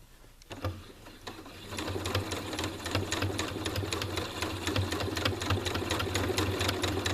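A sewing machine runs in steady free-motion stitching, tacking appliqué fabric down, with a continuous loud mechanical drone and rapid needle chatter that start after a brief quiet half second.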